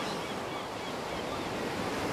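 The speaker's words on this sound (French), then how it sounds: "Il y a du vent, il y a quelques vagues" Wind and small waves wash onto a French shore during a morning of shrimp fishing, a steady broadband roar with no distinct breaks and no voices.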